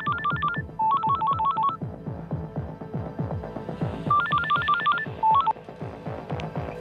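Telephone dialing tones for a phone call, two quick bursts of touch-tone beeps separated by a pause, over a busy background of rhythmic thumping sounds.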